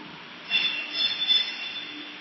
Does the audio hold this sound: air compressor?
no